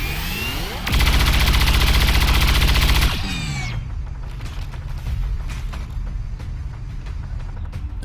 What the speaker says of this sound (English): Not bad on the shooting there